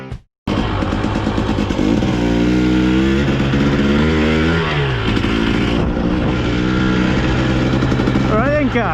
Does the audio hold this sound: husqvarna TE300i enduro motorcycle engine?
yes